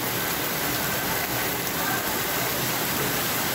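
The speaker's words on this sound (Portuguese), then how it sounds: "A pancada de chuva rápida e intensa deixou esta rua na região noroeste de Belo Horizonte" Heavy, fast rain shower pouring down on a street in northwest Belo Horizonte, a dense, steady roar with no breaks, loud and close.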